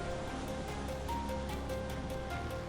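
Sea waves washing steadily as a fisherman's boat sets out, a continuous broad surf wash with faint rustling, alone with no voices, moderately loud and close.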